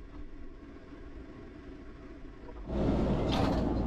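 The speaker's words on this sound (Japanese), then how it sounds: "この路面電車って迫力あって乗っていて楽しいですね" Toyama streetcar rumbles faintly along its track, swelling into a louder rolling roar near the end, heard from inside the tram with no talk.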